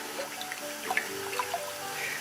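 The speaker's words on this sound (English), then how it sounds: "we're going to add in our chicken stock and" Hot chicken stock, made with boiling water and salted, is poured into a pan of toasted rice, giving a steady close liquid pour with small splashes and trickles throughout.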